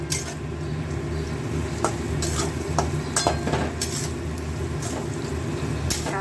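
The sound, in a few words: stirring salt and spices in pan for chicken kosha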